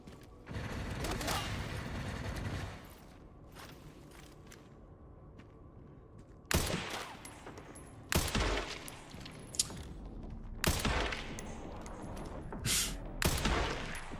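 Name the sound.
gunfire in video game Resident Evil 9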